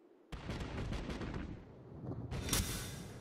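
Battleship secondary guns in the video game World of Warships, on the Myogi, open up with a sudden loud crack, followed by a sustained rumble of firing and a second heavy blast near the end.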